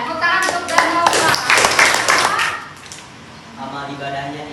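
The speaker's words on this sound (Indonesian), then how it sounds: "tepuk tangan untuk Danova." Applause from an audience at a teacher training session in Bandung: dense, lively hand clapping for about two and a half seconds, fading out as a voice continues.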